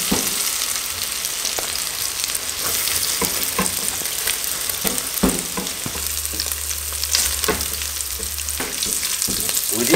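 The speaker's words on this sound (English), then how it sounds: "With this same oil, I'll be frying our mushrooms" Tofu and mushrooms fry steadily in hot oil, with crackling pops and occasional stirring scrapes throughout, close and fairly loud.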